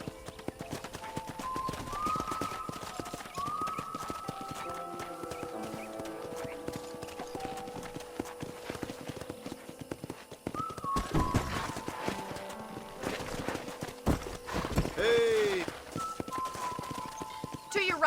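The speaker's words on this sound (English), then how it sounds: "let's see if you can still ride a horse" Horse hooves galloping in the Red Dead Redemption video game, a continuous rapid drumming under game music and spoken dialogue, growing busier and louder in the second half.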